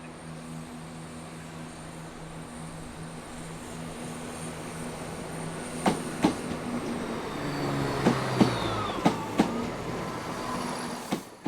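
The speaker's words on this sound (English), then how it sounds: "Sister unit number 326 departs the platform, forming the 1210 Marylebone to Birmingham" Train unit 326 pulling away from a railway platform on the Marylebone to Birmingham line, a steady rumble that builds as the train moves off, with a run of sharp clacks from the wheels later on.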